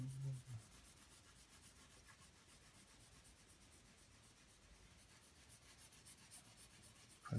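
A pencil held on its side shades a flat tone across paper while a cat is being drawn, producing a soft, continuous, close rubbing scratch that stays quiet and steady throughout.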